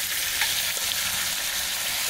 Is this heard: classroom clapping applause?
no